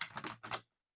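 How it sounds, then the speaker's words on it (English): Tarot cards are shuffled in two quick riffling bursts, close and brisk, ending abruptly in silence. "Let me give this one more shuffle right here."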